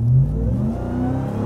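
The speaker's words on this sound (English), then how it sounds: "the supercharger whine definitely takes command over everything else" A 2021 Ram TRX, a 702-horsepower supercharged pickup, revs with its supercharger whine rising over a deep engine rumble, loud and close, with no talk.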